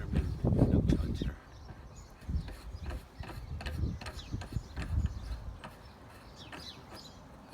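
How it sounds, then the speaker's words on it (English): A ladder clamp bolt is tightened with a tool, giving close, irregular ratcheting clicks and metallic knocks in short bursts with handling noise between them. "then do your ladder bolt just tight enough to stop the ladder moving, no tighter"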